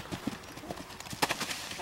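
A horse's hooves clip-clop in quick, irregular beats during tarp desensitization training, fairly quiet, with a person talking faintly alongside.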